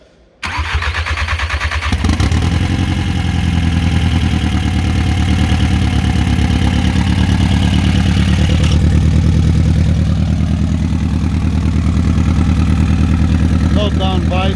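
A VW CDL engine with no downpipe fitted cranks after a brief quiet start, catches within about two seconds and then runs loud and raw at a steady idle close by for the rest of the time.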